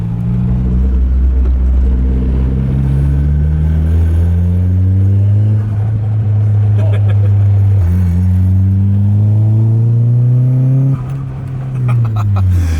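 A Nissan 240SX with a freshly built SR20 engine runs and drives, its engine note loud and close with repeated rising revs through gear changes, continuous throughout with faint talk underneath.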